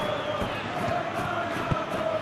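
Stadium crowd in the PES 2021 football game, during a LaLiga Master League match, keeps up a steady, broad roar of cheering that fills the short stretch without a break.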